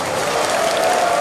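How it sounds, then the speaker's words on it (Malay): A crowd at a DAP and Pakatan Harapan political rally applauds Dr. Mahathir, a loud, dense, continuous roar of clapping with no gaps. "Tepukan gemuruh selain ini kepada Tuan Dr."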